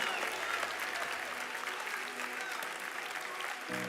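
A church congregation applauding during an evening worship service, a dense continuous wash of clapping held at an even level, fairly distant, with a low tone entering at the very end.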